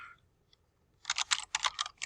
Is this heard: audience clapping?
no